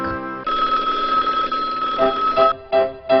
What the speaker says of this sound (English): Telephone, ring.